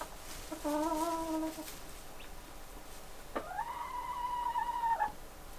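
Two drawn-out rooster-like calls sound from fairly close, a short one followed by a longer crow, against a quiet background.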